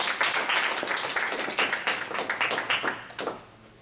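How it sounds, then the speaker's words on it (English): Audience applause after a talk on scaling web applications: a room of listeners claps steadily, dense and fairly close, with a few sharper individual claps standing out before the clapping fades toward the end. "Let's give a round of applause for it."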